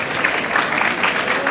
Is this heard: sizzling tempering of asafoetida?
no